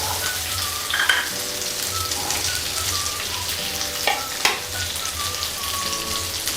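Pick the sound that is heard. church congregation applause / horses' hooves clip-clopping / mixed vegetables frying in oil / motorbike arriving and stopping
mixed vegetables frying in oil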